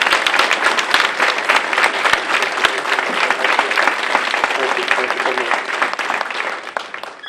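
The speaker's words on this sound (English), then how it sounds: "Make a round of applause for Mr." Loud, dense applause from a crowd at the 2019 State of Ward 7 gathering, sustained clapping with sharp individual claps standing out, alongside some voices.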